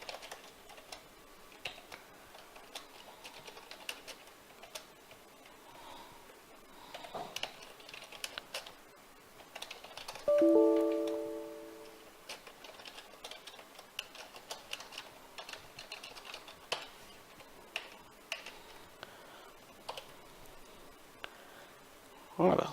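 Code typed on a computer keyboard produces scattered, faint key clicks across a long stretch, mostly beneath a person talking, with a brief tonal beep partway through.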